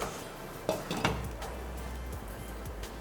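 A metal lid goes onto a cooking pot of soya-chunk masala just after stirring, making two sharp clanks close together, followed by a faint steady simmer.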